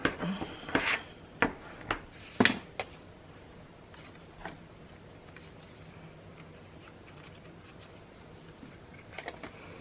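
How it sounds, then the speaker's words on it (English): A sheet of paper being smoothed flat by hand for a scrapbook pocket page: a few short, crisp rubbing strokes and light taps up close, then near quiet. "I'm going to flatten this out a little bit."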